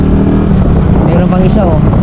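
Two motorcycles entering, a loud continuous engine roar with a shifting pitch, close by, with people talking over it.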